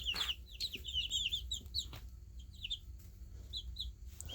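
Young chicks in a brooder peeping rapidly in clustered high chirps, near and fairly loud over a low steady background hum, without talk.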